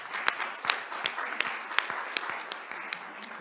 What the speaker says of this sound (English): I want to have a round of applause for Vinay for bringing us this great place.